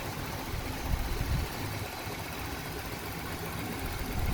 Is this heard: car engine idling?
yes